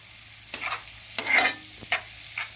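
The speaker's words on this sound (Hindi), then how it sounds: "प्याज भी इसमें डाल दूंगी, प्याज का थोड़ा कलर चेंज होना है।" Onions sizzle gently as they fry in a pan for butter paneer masala, with a few distinct scraping stirs of a spoon through them, close up and soft, with no voices.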